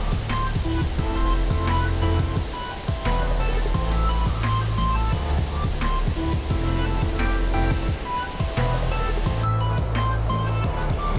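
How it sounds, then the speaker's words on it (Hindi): Water roars steadily as it rushes over Sasoi dam near Jamnagar, Gujarat like a waterfall, a loud, continuous wash of noise with no voices. "कैसे झरने बह रहे हैं आप देख सकते हो।"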